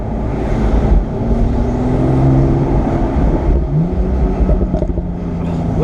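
A 2017 Porsche 911 Carrera 4S Cabriolet's exhaust rumbles close and loud, its engine note rising and falling, with a string of crackling pops near the end.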